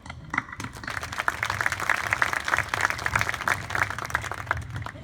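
Audience at a high school graduation ceremony bursts into sustained applause, dense clapping swelling quickly and holding steady for several seconds, moderately loud and heard from within the crowd.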